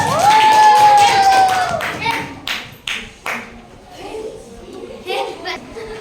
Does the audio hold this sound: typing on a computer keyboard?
no